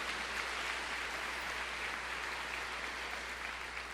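Church audience applauding during a Portuguese-language sermon, a steady wash of hand-clapping that holds evenly for about four seconds at moderate, slightly distant loudness with no voices over it.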